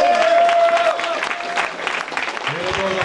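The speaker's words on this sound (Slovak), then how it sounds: "prosím potlesk." Spectators at a duathlon race closing ceremony applaud in a steady, moderate patter, with a tonal whine early on and voices breaking through toward the end.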